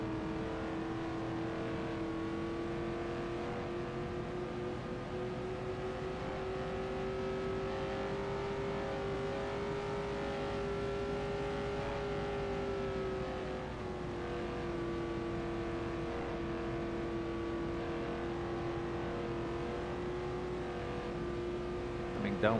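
A 1978 USAC race car lapping the Indianapolis 500 track during time trials, a sustained engine drone holding steady pitch with slight rises and dips through the corners, heard from a distance with a flat, continuous character.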